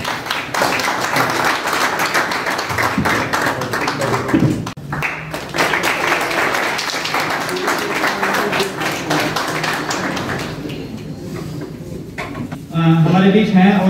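Audience applause at an event in Hapur for a district employment generation centre: a dense, steady clatter of many hands clapping for about twelve seconds, with voices underneath, fading out before a short, quieter closing stretch.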